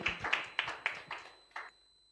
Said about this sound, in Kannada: ಎಲ್ಲರೂ ಚಪ್ಪಾಳೆಯಿಂದ ಮಕ್ಕಳನ್ನು ನಾಟಕಕ್ಕಾಗಿ ಸ್ವಾಗತಿಸಬೇಕಾಗಿ ಕೇಳಿಕೊಳ್ತೇನೆ